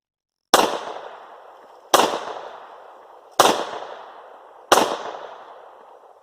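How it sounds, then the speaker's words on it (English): Four loud handgun shots fired at a range after a spare magazine is inserted, evenly spaced about one and a half seconds apart, each a sharp crack with a ringing decay, and no talking between them. "I'm just going to insert my spare magazine I was using and go back to shooting"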